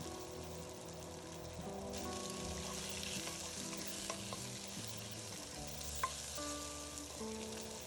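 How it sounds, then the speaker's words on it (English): Cubed onion with green and red capsicum sauté in a hot pan, giving a steady close sizzle broken by spatula scrapes and stirring knocks, with one sharp clink near the end and no voices. "Now I'm adding cubed onion, green capsicum, red capsicum, and saute for a few minutes."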